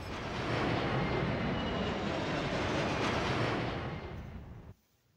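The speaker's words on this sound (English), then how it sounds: "right as the jet passes over." Jet flying over in the racing game NFS No Limits, a loud broadband roar that builds, holds for several seconds, then cuts off abruptly near the end.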